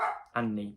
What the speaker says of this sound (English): Apologies if you can hear my dog barking.